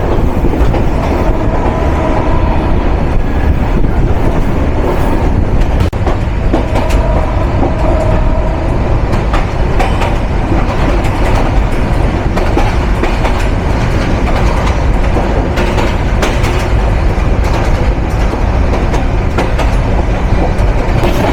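The Nilsagar Express intercity train runs past at close range in rain in Bangladesh, a loud continuous roar of wheels on rails with rhythmic clattering throughout.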